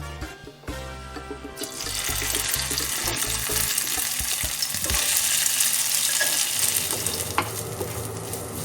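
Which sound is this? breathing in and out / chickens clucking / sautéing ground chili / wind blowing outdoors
sautéing ground chili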